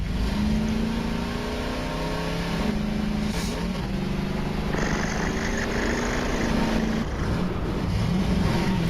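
A person imitates a cat's purr with a low, steady, rumbling drone that continues throughout, with faint background noise underneath.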